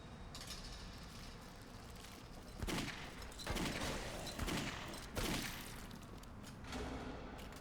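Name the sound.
gunfire in Clive Barker's Jericho video game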